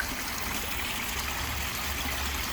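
A small backyard waterfall spills into a fish pond in freezing winter weather, giving a steady, soft rushing and trickling of water that continues evenly without any voices.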